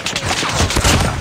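Rapid video game gunfire fills a short burst of combat, dense overlapping shots throughout, loud and close, with a faint voice under the firing.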